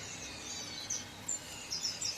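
Faint, sparse bird chirps over a quiet room hum on a farm, with a few brief high tweets scattered through.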